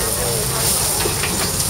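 Food sizzles on a grill at an outdoor farmers market stall selling eggs, pork chops and sausages, a steady close hiss of frying running throughout without a break.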